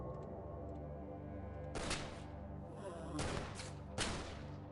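Gunfire and a grenade blast from the video game XCOM (The Xcom Files) sound as three short, sharp bursts spaced a second or so apart, each rising out of a faint, steady electronic hum.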